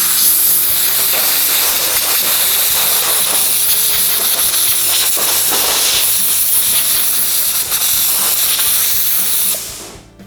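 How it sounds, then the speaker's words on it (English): Compressed air blasts in a loud, continuous hiss across car body filler during bodywork on a Boss XC, sustained close up for about ten seconds before cutting off. "just going to blow the air out of that"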